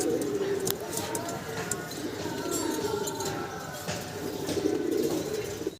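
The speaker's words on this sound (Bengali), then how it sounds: "অদ্ভুত সুন্দর দেখতে আরও একটা কবুতরের জোড়া দেখাইতেছি আপনাদের।" Fancy pigeons coo softly and repeatedly at close range, a low murmuring under someone talking steadily over them.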